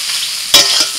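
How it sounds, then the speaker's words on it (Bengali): Pumpkin fries in a little oil in a pan as it is broken up, with a steady soft sizzle and a sharp scraping, stirring burst halfway through. "অল্প তেল দিয়ে ঢাকা দিয়ে আমি ভালো করে এটাকে ভেজে নিয়েছি।"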